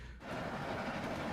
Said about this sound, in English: Is he on top of the train again?